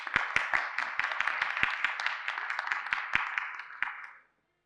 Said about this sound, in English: can I have a round of applause for Lucy, please?